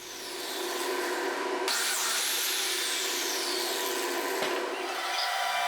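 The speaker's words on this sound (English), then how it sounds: "let's use the biscuit cutter" A biscuit cutter slices into wood for a guitar stand, a loud steady motor whine with a rising pitch sweep as the blade plunges, then a brief dip and restart near the end, with no talking.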